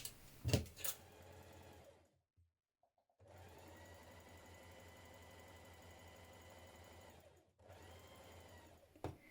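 A sewing machine runs in steady bursts stitching a smock side seam from the underarm point, whirring evenly for several seconds between brief pauses, with a few clicks at the start.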